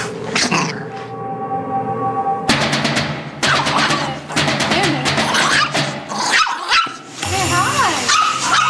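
A dog barks, yips and growls repeatedly and loudly at close range, with people talking over and between the barks throughout.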